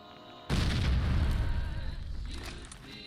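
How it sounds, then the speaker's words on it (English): A frag grenade bursts in Fallout: New Vegas, one sudden heavy boom after a brief quiet lead-in, followed by a rumbling roar that slowly fades with some crackling debris. "Just chucking another frag grenade."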